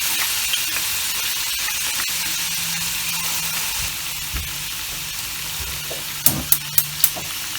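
Prawns and tofu frying in a pan for pad thai, a steady close sizzle and hiss, with a few sharp clacks of a utensil near the end.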